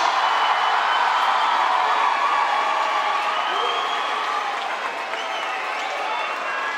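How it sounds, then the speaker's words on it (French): A large crowd at a Battle Of The Year 2015 breakdance quarter-final in Montpellier applauds the Submarine crew with dense, sustained clapping and cheering that fills the hall. "On les applaudit, s'il vous plaît."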